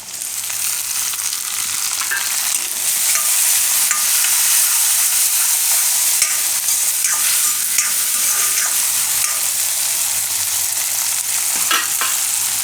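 Tomatoes stirred in a hot pan for a puffed-rice and potato snack, giving a loud, steady sizzle with scattered scraping and stirring clatter throughout.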